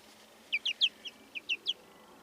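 A young chicken at an allotment gives a quick run of seven high, thin clucks and peeps in close succession, near and clear against a quiet background.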